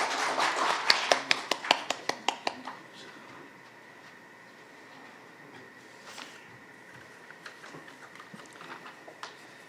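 An audience at an anniversary ceremony claps to welcome the chairman, sharp separate claps that start loud and thin out within a few seconds, followed by quieter scattered claps and faint room sounds.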